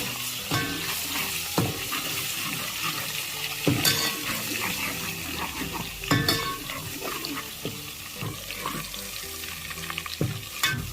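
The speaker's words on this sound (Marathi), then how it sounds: "अद्रक लसण पेस्टला गोल्डन कलर येईपर्यंत भाजायचा आहे" Ginger garlic paste sizzling in hot cooking oil while a spoon stirs and scrapes the pan, cooking for a village-style chicken dish; continuous frying crackle broken by repeated clinks and scrapes, close and alone.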